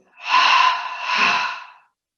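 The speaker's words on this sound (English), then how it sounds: "out through the mouth twice, in through the nose twice" Two breaths pushed out through the mouth in a seated yoga recovery session, a long airy exhale followed by a slightly softer second one, close and alone.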